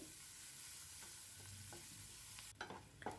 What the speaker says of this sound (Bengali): আমি পেঁয়াজ দিয়ে দিলাম, পেঁয়াজটা একটু ভালো করে ভেজে নেব হালকা করে।